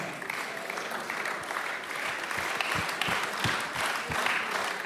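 An audience breaks into sustained applause as an award recipient comes forward at a humor show. The clapping is dense and steady for the whole stretch, with no voices over it.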